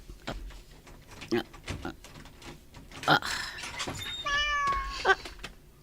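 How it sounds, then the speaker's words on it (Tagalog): A big white cat meows indoors, with several rising, drawn-out cries in the latter half of the clip, close and fairly clear, mixed with low room noise and brief background voices. "Nagpintas ka nagdakkala puraw a pusa."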